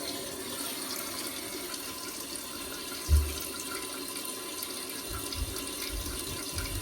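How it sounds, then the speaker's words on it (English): Steady rush of running water filling a toilet tank, a continuous broadband hiss with a brief low thump partway through and some rumbling near the end. "Let this thing fill up."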